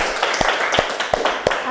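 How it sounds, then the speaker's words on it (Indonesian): Classroom applause for a group of students: a handful of sparse, uneven hand claps with a few louder single slaps, close and moderately loud over a light room murmur. "Tepuk tangan buat kelompok"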